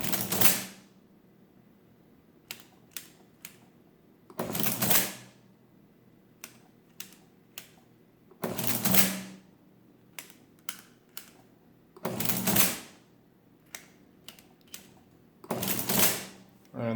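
An Allen Wales electromechanical adding machine clatters through loud mechanical cycles about every four seconds, separated by sharp single key presses as numbers are entered, all close and without talk.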